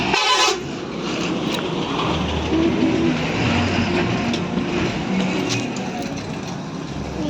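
A train rumbles past at a level crossing, a continuous loud clatter and roar with a brief horn-like tone near the start.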